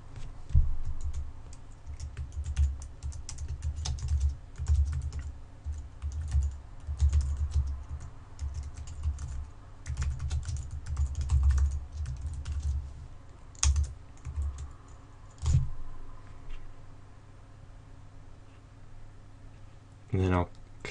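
A post title is typed on a computer keyboard: a steady run of close, light key clicks in quick bursts, with a few pauses and a louder click near the end, while a person talks over it.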